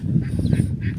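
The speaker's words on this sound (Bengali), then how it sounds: "ওই যে হাঁসগুলো যাচ্ছে।" Ducks quack over low rumbling background noise beside the Bangshai river, a few close, steady calls running through the whole second.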